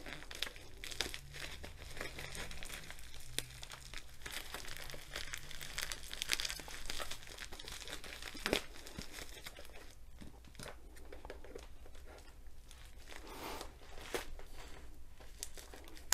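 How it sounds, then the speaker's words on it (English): Packaging from a Home Craftology diamond painting kit is cut open and unwrapped, producing steady close crinkling and rustling with occasional sharper tearing and crunching sounds. "So I'm just basically cutting the end off here."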